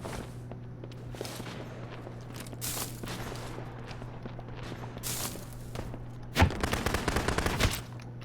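Shotgun fire in the farming shooter game Shotgun Farmers, with a quick cluster of sharp, punchy blasts late on over a steady game hum, scattered footsteps and distant shots.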